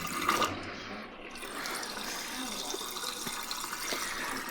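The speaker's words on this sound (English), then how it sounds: "Turn the second knob to the drain setting and let it drain the water." Water draining from a Costway twin tub washer, a steady broadband rush that runs continuously from start to finish at moderate level with no talk over it.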